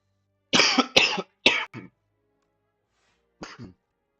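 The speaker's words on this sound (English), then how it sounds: "sorry for coughing so much." A person who feels unwell coughs in a quick burst of four harsh, close coughs, then pauses and gives one more cough a couple of seconds later, in an otherwise quiet room.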